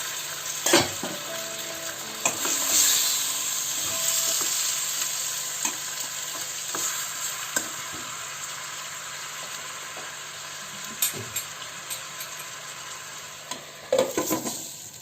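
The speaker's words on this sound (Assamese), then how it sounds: "এইখিনি মই অকণমান কম দি ভালকৈ ভাজি ল'ম।" Local country chicken pieces and potato chunks fry in a pan, a steady loud sizzle running throughout with intermittent scraping stirs and clinks of a spatula, louder clatter near the end.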